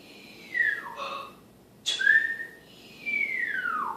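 Three clear whistled notes, each a sliding tone that swoops downward, separated by short pauses, close and moderately loud with no talking.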